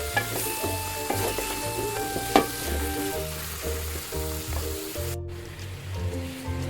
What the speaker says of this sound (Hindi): तो इसमें हम गोश्त शामिल कर देंगे और इसको हम अच्छे से फ्राई करेंगे इसके अंदर।